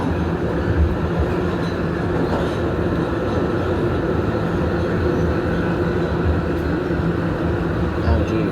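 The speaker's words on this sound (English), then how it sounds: "This is a northbound B train." An R211A New York subway B train rumbles steadily, a loud continuous roar of wheels and motors heard from inside the car, with voices faintly present in the background.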